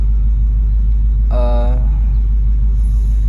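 Acura Integra with a lean-running fault idling after a cooling system bleed, a steady low rumble throughout, with a brief voice-like burst partway through.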